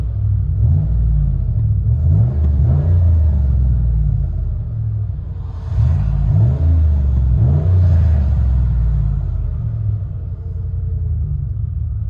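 A 2002 Lincoln Continental with a 4.6L V8 and dual exhaust, mufflers deleted, rumbles low and loud at close range, rising in two brief revs before settling back to a deep idle.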